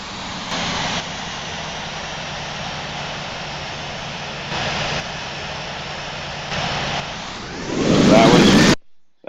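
A steady engine drone from an A320 airliner on approach in the Infinite Flight game holds for several seconds, swelling at the end into a louder rushing burst at touchdown before cutting off abruptly.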